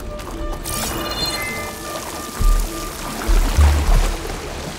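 Flowing water in the video game Horizon Forbidden West, a steady wash with a trickling, pouring quality that runs through the whole stretch, with a few low thuds toward the end.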